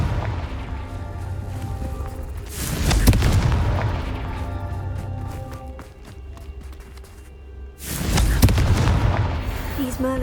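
The Confringo fire spell in Hogwarts Legacy goes off in two loud, rumbling booms several seconds apart, each with a crackling explosive burst and a long decaying roar over a game soundscape.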